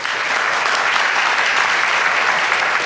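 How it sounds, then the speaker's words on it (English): A symposium audience applauds in a steady, dense wash of clapping that fills the whole short stretch without pause. "I want to give a big round of applause to Mike and Phil and David."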